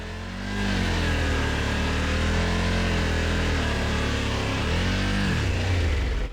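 Motorcycle engine revving hard and continuously while struggling through deep slippery mud off-road, a loud close sustained drone with pitch dipping and climbing as the throttle is held open, no talking.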